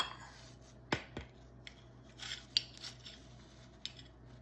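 Knife cutting into a baked biscuit pie, a few sharp scraping slices and soft crunchy cuts scattered over a quiet background, close and fairly faint.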